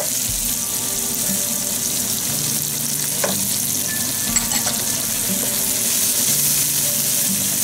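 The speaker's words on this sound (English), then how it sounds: "We'll fry till the onion starts to turn a little brown, or the shallots starts to turn a little brown." Shallots, ginger and garlic fry in a pan with a constant, loud sizzle and light stirring, close up and steady, with no talking.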